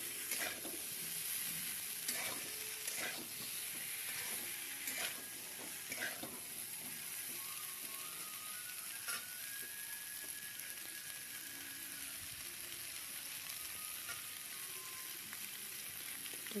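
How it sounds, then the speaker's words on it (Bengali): Cauliflower and potatoes frying in oil for a vegetarian cauliflower curry, a steady close sizzle with occasional clicks of stirring, at a moderate level with no talking. "তো অনেকক্ষণ ভেজে নিয়েছি ফুলকপি আর আলুটাকে।"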